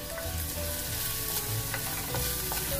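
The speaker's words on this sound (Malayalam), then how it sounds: "പാകത്തിന് ഉപ്പും ചേർത്ത് നന്നായി സോട്ട് ചെയ്യാം." Sliced onion with salt sautéing in a pan for fish curry, a steady, dense sizzle and frying crackle throughout, close and even in level with no voices.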